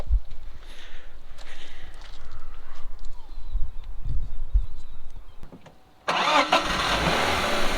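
BMW Compact 318ti four-cylinder car with a churning rumble of cranking and engine noise that dips briefly, then settles into a sudden, loud, steady idle at close range.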